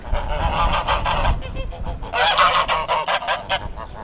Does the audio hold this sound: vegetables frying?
no